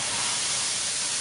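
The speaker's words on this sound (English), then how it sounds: "there's the steam coming out of the end there." Steady, loud hiss of steam jetting from the nozzle of an SV6 steam cleaner, a continuous broadband rush with no break, close up and alone.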